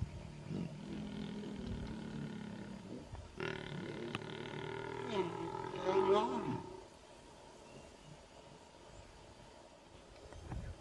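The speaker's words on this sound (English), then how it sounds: "Thinking they were safe, the lions started mating." Lions mating in the wild give deep rumbling growls that swell into one loud, harsh roar lasting a few seconds, then fade back to low, breathy grunts at a moderate distance.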